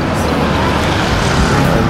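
Close street traffic in Taoyuan, Taiwan, with the loud broadband rumble of cars and motorcycles passing nearby, sustained and dense throughout.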